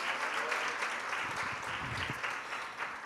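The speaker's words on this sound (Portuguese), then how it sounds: "Você pode aplaudir ao Senhor por isso?" A congregation applauds during a sermon at a women's church gathering. The clapping is steady, dense and sustained, with a low voice murmuring faintly underneath.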